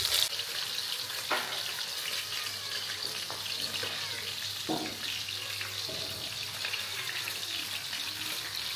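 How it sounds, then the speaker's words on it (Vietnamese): Food frying in a pan gives a steady broadband sizzle with a low hum underneath and a few brief clicks and clatters, moderately close. "Cái này rán thì nó ngót rồi."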